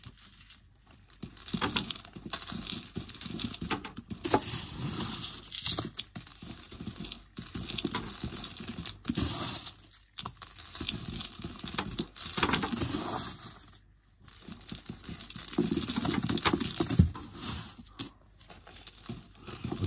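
Coins are dropped into a bottle that is nearly full: a close, steady run of metallic clinks and rattles in bursts, with brief pauses between handfuls.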